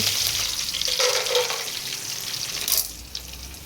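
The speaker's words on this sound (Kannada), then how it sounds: "ಸಾಸಿವೆ ಜೀರಿಗೆ ಹಾಕಿ ಚೆನ್ನಾಗಿ ಫ್ರೈ ಮಾಡಿ, ಆಮೇಲೆ ಕರಿಬೇವು ಹಾಕಿ ಚೆನ್ನಾಗಿ ಫ್ರೈ ಮಾಡಿ" Mustard seeds, cumin and curry leaves frying in oil and ghee for uppitu, a bright continuous sizzle with a burst of spattering near the end, close and fairly loud with no voices.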